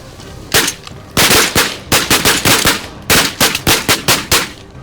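A rapid volley of loud shotgun blasts during a goose hunt fires in quick succession, several shots in clustered bursts, sharp and close.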